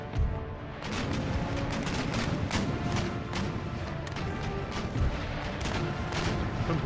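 Naval cannon broadside in Empire Total War, a dense, continuous barrage of booming gunfire and heavy thuds rolling on without pause, loud and sustained throughout with scattered sharper cracks.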